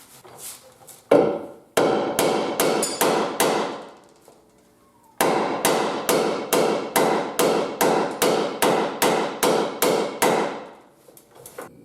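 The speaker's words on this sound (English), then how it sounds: "These are kind of pulled out, so I'm going to hammer those in a little bit." Loud hammer blows ring out on a metal rear bumper frame of a Jeep Wrangler YJ in fast, steady runs, a quick burst, a short pause, then a long rhythmic series of strikes.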